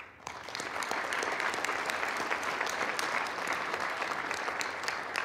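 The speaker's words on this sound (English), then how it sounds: "And I applaud you." An audience at a conference banquet and awards evening claps, a steady, fairly soft burst of applause that rises quickly and holds for several seconds.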